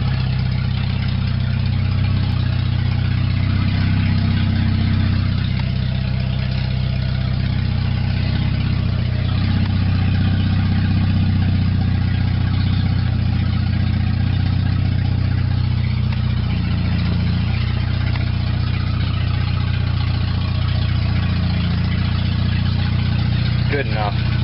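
A 1994 Dodge Shadow engine drones loud and steady from inside the car while driving somewhat faster than usual, a constant low rumble with road noise and a voice talking over it.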